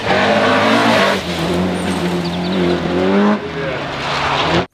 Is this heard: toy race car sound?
yes